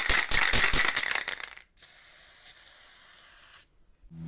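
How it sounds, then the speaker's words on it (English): A spray paint can rattles rapidly as it is shaken, then a steady, close hiss of spraying onto a scratch-built model robot runs for about two seconds and stops. "so here's a spray paint"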